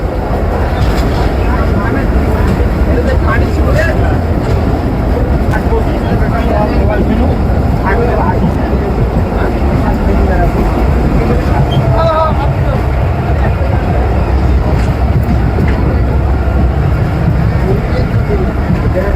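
An old British-era train engine hauling its coaches rumbles and rattles continuously, a loud, dense clatter heard from on board with no pause.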